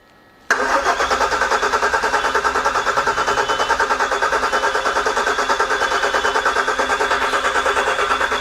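Peugeot 406 V6 car engine catching abruptly after a short silence and then running steadily, a loud, close, even idle with a fast regular pulse and no talking.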